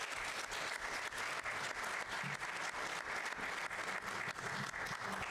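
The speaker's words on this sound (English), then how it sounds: "let's give them a big round of applause." An audience at a historical society evening applauds the panelists, with steady, dense clapping filling the room from start to finish at moderate level, no voices standing out.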